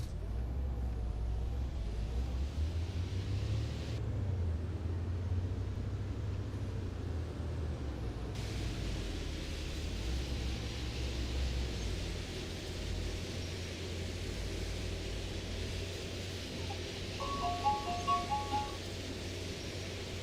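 A city bus in the OMSI 2 driving simulator hums with a continuous low engine rumble and road noise, steady and moderately near, with a brief short chime-like tone near the end.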